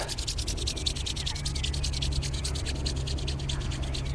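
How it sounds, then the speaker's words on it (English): A pair of hands rub briskly together in quick, regular back-and-forth strokes, a soft close-up swishing that repeats steadily without any talk. "rubbing the hands together"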